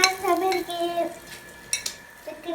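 Cumin rice porridge is stirred in a pot, with a spoon scraping and clinking against the metal in short bursts and a few sharp knocks, all close and moderately loud with no talking.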